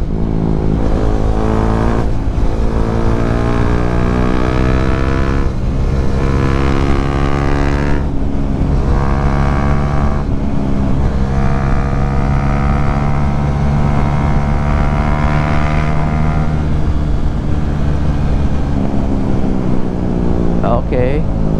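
KTM 390 Duke motorcycle engine revs hard at full throttle, a loud, steady roar that keeps rising and falling in pitch as the bike pulls through the gears, continuous for over twenty seconds with wind noise.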